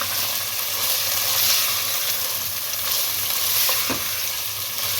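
Minced meat and garlic fry together in a pan for keema pulao, loud continuous sizzling with scraping stir strokes running throughout, close up and without speech.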